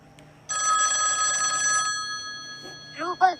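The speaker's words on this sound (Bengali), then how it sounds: "এই যে প্লে আইকনে ক্লিক করে কিন্তু রিংটোনটা শুনতে" A custom name ringtone plays from a phone app as a bright electronic ringing tone, sustained for over a second and then cut off, after which a voice starts speaking.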